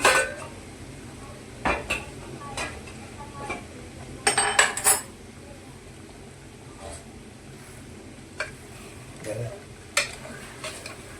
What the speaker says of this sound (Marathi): थोड्यावेळ झाकणी झाकून बघू